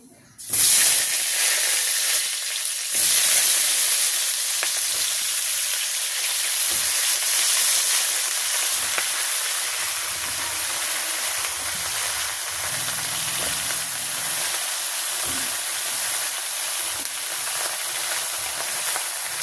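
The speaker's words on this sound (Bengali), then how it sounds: "তেল গরম হয়ে গেছে, আমি এখন কচু দিয়ে দিচ্ছি।" Taro stems tossed into hot oil in a wok set off a loud, steady hiss and sizzle that lasts throughout, with a brief drop and renewed burst early on and faint clatter beneath.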